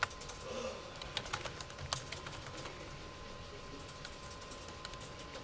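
Someone types Python code on a computer keyboard during a class lecture, producing a light, irregular run of soft key clicks, a few sharper taps, against a quiet room with no talking.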